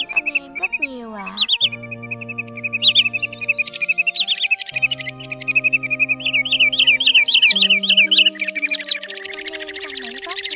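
Call recording of a white-bellied sandpiper: repeated thin, high piping whistles and trilled chirps, loud and close, in quick bursts that grow denser toward the end, with no voices.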